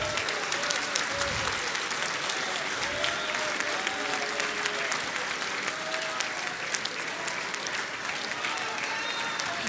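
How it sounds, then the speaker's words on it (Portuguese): A church congregation applauds for nearly ten seconds, a dense continuous wash of many hands clapping at steady loudness, with some voices faintly mixed in. "Aplauda ao Senhor Jesus."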